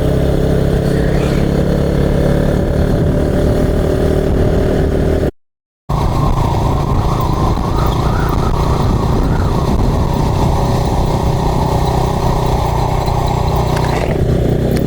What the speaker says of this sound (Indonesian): Jadi serasa naik motor Harley.